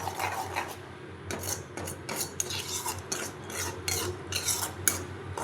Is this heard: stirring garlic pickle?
yes